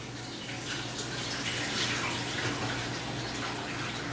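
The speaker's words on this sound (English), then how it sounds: "I added 8 cups of water" Water poured steadily from a container into a mirror baking tray in a hot oven preheated to 450 degrees, a continuous close splashing and gushing with no pauses and no talk.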